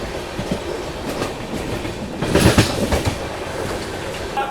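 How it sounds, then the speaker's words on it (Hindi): The Konark Express rolls past with a continuous rumble and rhythmic wheel clatter that swells to a louder, closer burst midway before settling back to a steady roar. "कोणार्क एक्सप्रेस गई है, ये आपकी कोणार्क एक्सप्रेस"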